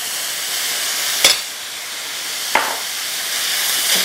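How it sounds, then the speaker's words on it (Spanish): A cup of finely chopped onion sautés in a hot pan, giving a steady, bright sizzle that holds at an even level, broken by two or three short clinks or stirs. "saltear acá una taza de cebolla finamente picada"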